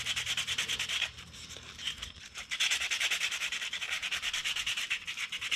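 Hand sanding a motorcycle corner light cover with a small piece of 100 grit sandpaper, a close, steady rasping scrape in quick back-and-forth strokes, with a short pause before the rhythmic rubbing resumes.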